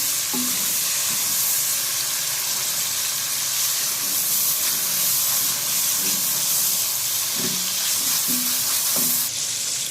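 Red chili is mixed into cauliflower frying in hot oil, a loud steady sizzle and steamy hiss with soft scraping stirs of a spoon through the pan, close up.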